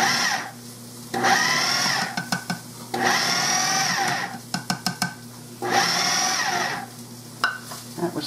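A food processor pulses biscuit dough made with self-rising flour, three loud whirring bursts of about a second each separated by short pauses, with clicks and rattles of the machine between pulses.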